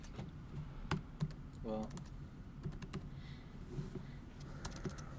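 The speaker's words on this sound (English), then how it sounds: "I'm just going to start typing code until it works." Keys clatter on a computer keyboard while code is typed, in irregular bursts of close, crisp clicks with brief pauses; a voice speaks briefly over it.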